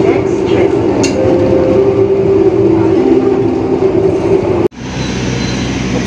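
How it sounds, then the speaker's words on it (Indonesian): The Argo Semeru passenger train arriving at Nganjuk station gives a loud, steady rumble and whine from inside the carriage, with a tonal hum, then an abrupt cut to a different interior noise. "perjalanan saya bersama kereta api Argo Semeru tiba di stasiun Nganjuk"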